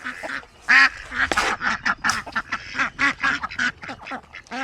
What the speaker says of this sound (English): There are 5 ducks out here.